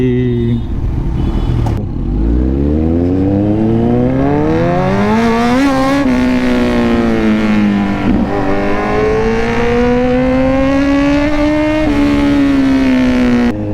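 A car engine revs continuously and loudly, its pitch sweeping up and down through several climbs, close by and dominating throughout.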